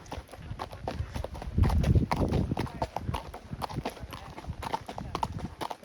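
Horse hooves clip-clop steadily and close at hand on a steep, rocky Colorado mountain trail to St. Mary's Falls, a brisk uneven rhythm of hard strikes on stone throughout.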